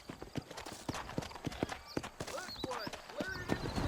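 Horses trotting in the Red Dead Redemption video game, hooves clip-clopping in a quick, fairly regular rhythm on a trail out of town, with faint tonal bird or creature calls mixed in and no speech.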